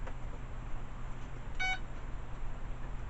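An unbound receiver in a Dynam Hawker Hurricane 1250mm RC model airplane gives a single brief electronic beep, faint against a quiet indoor background hiss.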